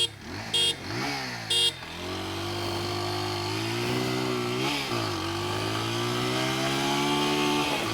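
TVS Apache RTR 200 4V motorcycle in sport mode, pulling away from first gear with two short throttle blips before a long, loud, steady acceleration whose engine note climbs and dips through gear shifts.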